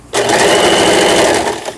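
A Janome 1306 household sewing machine runs in one continuous burst of stitching, a loud, close mechanical whirr with a rapid needle clatter that starts abruptly and winds down at the end.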